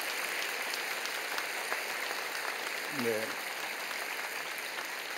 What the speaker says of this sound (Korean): 여러분 크게 박수로 좀 표해 주시죠